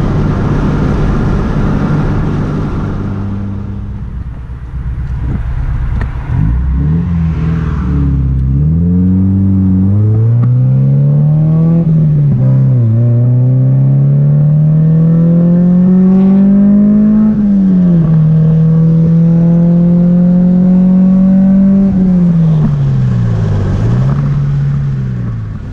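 A Honda engine running below VTEC engagement revs up through several rises and falls, climbing in pitch as the car accelerates, close and loud with no voices.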